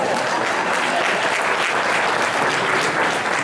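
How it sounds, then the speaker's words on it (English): A crowd applauds steadily and loudly throughout, dense clapping with no pauses. "So give them another round of applause."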